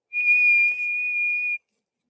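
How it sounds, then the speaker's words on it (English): A single steady whistle sounds, loud and clear, lasting about a second and a half before cutting off abruptly, followed by silence. "there goes the whistle now"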